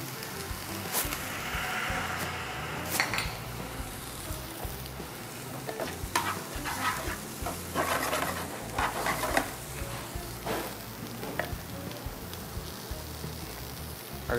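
Mojarra fish browning in a pan, a steady close hiss of frying with occasional brief clinks and stirring noises, no talk.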